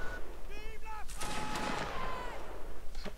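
Video game cannon blasts and musket gunfire crack in a burst during an online line battle event, with electronic tones and game effects around them, loud and close.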